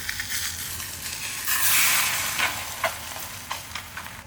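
Garlic naan laid onto a very hot dosa griddle over high flame gives a steady sizzling hiss that swells briefly and then settles, with a few soft scraping touches, close and without talk.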